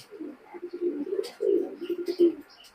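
Pakistani high flying pigeons coo softly nearby in a series of low, throaty pulses, two bursts of cooing with short gaps and no voices.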